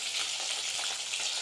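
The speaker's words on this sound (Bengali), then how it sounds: "এখানে আমার মাছ ভাজা হচ্ছে" Fish fries in a pan in a home kitchen, giving a steady, dense sizzle with small crackles throughout, close and even in level, with no talking.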